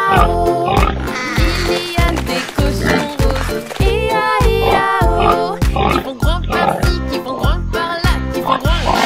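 Pink pigs grunt in a French children's farm song, with oinks sung by voices over a bouncy, steady beat and busy, loud music.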